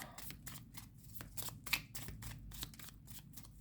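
Tarot cards are shuffled by hand in rapid, rhythmic riffling bursts, about a dozen quick flutters close to the listener, soft overall with no talking.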